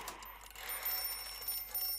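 A faint electronic alarm clock ringing steadily in the background of the video game Chuchel, with a thin high-pitched beeping tone throughout.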